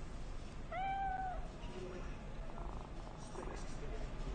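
A cat in the game Cyberpunk 2077 gives one clear, rising meow followed by soft purring, heard close over a low game ambience.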